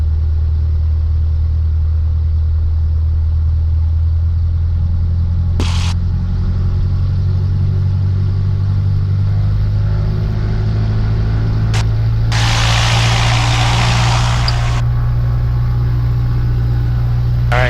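A light training aircraft's piston engine during a pre-takeoff run-up at Zephyrhills, a loud continuous low drone that holds steady, with brief bursts of radio or intercom noise crossing it.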